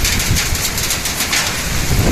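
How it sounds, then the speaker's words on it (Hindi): Heavy rain pouring with hail during a violent storm, a dense, loud, steady roar of drops hammering surfaces, close and continuous with no talk. "बारिश भी, और ओले पड़ रहे हैं, ओले।"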